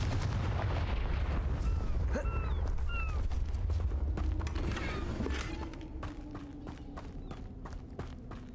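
A Confringo fire spell cast in Hogwarts Legacy on PC: loud sharp blasts and crackling impacts over a dense rumbling game soundscape, with several whooshing streaks in the first half before the din thins.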